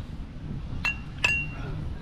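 Glasses clink twice in a toast among friends over drinks in Thailand, two short bright chinks about half a second apart, close by over low background murmur.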